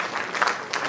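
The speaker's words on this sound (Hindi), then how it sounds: "फिर से एक बार तालियां विनय कुमार त्रिपाठी जी के लिए।" Audience applause at a theatre event, honouring Vinay Kumar Tripathi before a stage play: a steady wash of clapping from a crowd, moderately loud with a few sharper bursts, no talk over it.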